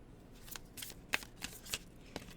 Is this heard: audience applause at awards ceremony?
no